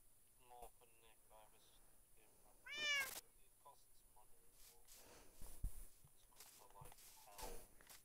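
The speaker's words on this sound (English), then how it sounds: "Oh, cat." A domestic cat gives a single clear, drawn-out meow close by, set against a quiet room with faint shuffling and small knocks before and after.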